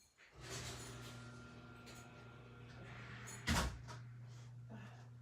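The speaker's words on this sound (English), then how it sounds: "I'm going to open the garage door for Helene and Kathy" A garage door opens at home, a low steady mechanical hum running for several seconds with a brief louder clunk partway through, fairly quiet and close.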